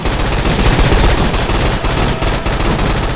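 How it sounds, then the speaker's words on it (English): Continuous rapid blaster and gun fire in a Star Wars Clone Wars roleplay game, dense loud volleys filling the whole stretch with barely any pause and no voices. "Stop shooting at our droid."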